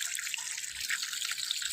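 Chopped lemongrass being washed in salt water, a steady close wash of splashing and trickling liquid, continuous and even with no talk.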